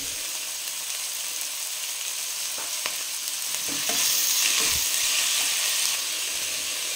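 Boneless chicken pieces sizzle and fry in a pan with green chillies and chopped tomato, a steady close hiss with a few stirring clatters and a louder surge of frying midway.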